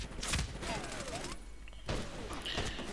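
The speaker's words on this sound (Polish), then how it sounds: "dwa strzały z daleka, trzeci na poprawkę" Several sharp MCS870 shotgun shots in Medal of Honor: Warfighter ring out over a busy background of game noise and distant clatter, spaced apart with a brief quieter gap between them.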